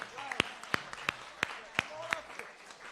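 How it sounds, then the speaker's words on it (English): Scattered hand claps from a small audience at a community forum welcoming a speaker, a handful of sharp individual claps spaced irregularly, fairly close and moderately loud, with faint background murmur. "Let's give Dr. Barbara Arnwine a round of applause to welcome her up here."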